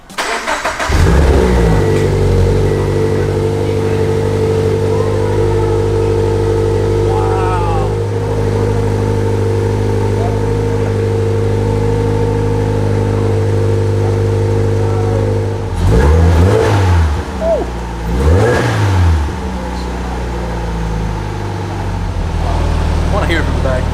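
A 2014 Subaru BRZ fires up with a quick crank and settles into a loud, close idle. Two sharp throttle blips rise and fall later on, with people faintly talking around the car.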